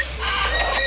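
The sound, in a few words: giant bird calling at Parrot Mountain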